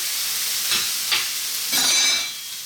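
Onions and garlic fry in a pan with a steady broadband sizzle, a few soft stirring scrapes rising over it, close and continuous with no talk.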